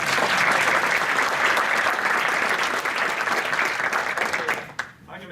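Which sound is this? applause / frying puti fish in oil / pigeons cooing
applause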